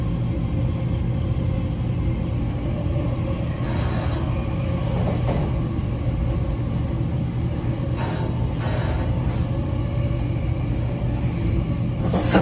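Limited express train passing through Fujisawa station on a 15-car platform, heard as a steady low rumble of rolling wheels and motors that continues throughout, with a few brief higher clatters over the top.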